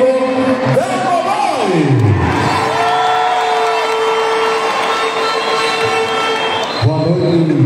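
A crowd at a political party convention cheers, whoops and applauds loudly and continuously, with shouting voices rising over the sustained roar.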